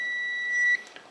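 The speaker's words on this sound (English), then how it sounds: "Bring it in contact with a magnet and you should hear it beep." A continuity tester used on a Siemens dishwasher's flow control switch gives one steady electronic beep lasting under a second, followed by faint handling clicks.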